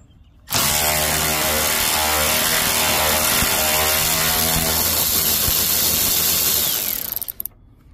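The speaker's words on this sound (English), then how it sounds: "so let's start out by removing the screws." A power tool whirs steadily while screws are backed out of the headlight assembly on a 2006–2008 Dodge Ram 1500, starting abruptly and running loud and close for about seven seconds before stopping.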